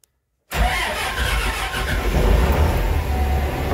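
A cold car engine cranks and catches after a moment of silence, then settles into a loud, rough, steady run close by.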